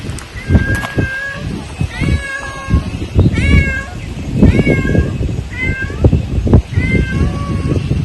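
A cat at a house after a landslide disaster cries and meows over and over, loud and close, with the repeated wails coming in a steady, urgent rhythm over some background noise and faint voices.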